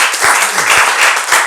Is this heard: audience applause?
yes